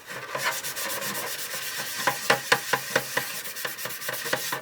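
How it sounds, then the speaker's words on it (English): Mr. Surfacer primer on a plastic model of the battleship Yamato is sanded by hand, a close dry scratchy rubbing made of rapid repeated strokes, loud and rhythmic with no talking. "I'll get the sanding done"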